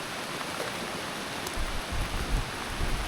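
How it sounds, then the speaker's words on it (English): Steady rain falls in the Sumatra jungle at a rafting spot, a dense continuous hiss that thickens slightly toward the end, with no voices over it. "it's just started raining"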